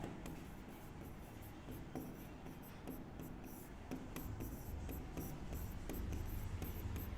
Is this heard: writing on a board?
yes